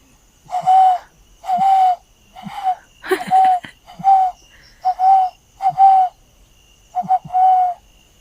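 Repeated soft cooing calls of a dove, about nine hoots in an irregular rhythm with short pauses, close and clear against a quiet background.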